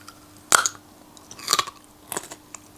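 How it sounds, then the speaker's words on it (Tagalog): Crunchy bites of Samyang fire noodles eaten close to the mic: three separate crisp crunches spaced about a second apart, with soft chewing between them in a quiet room. "At crunchy. Gusto ko yung sound ng crunch."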